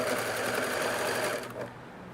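A sewing machine set to a narrow zigzag runs at speed, stitching ribbing onto the neckline of a T-shirt, a loud close steady whir that slows and drops off near the end.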